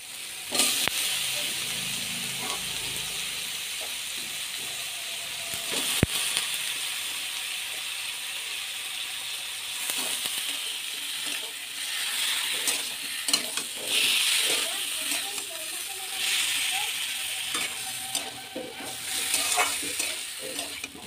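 Chicken pieces added to a pan of butter with onion and tomato, sizzling and hissing steadily over a long stretch, with occasional stirring scrapes and clatter close by.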